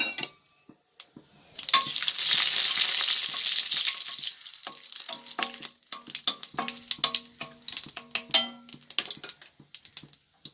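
Cinnamon and fennel seeds dropped into hot oil for an egg curry burst into a loud sizzle, then settle into crackling, popping frying with scraping stirs and metallic clinks of a spoon against the pan.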